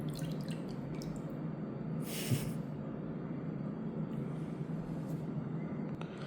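A Samsung Galaxy Z Fold 6 phone sits in water, with soft drips and small splashes over a steady watery wash, one brighter splash standing out midway.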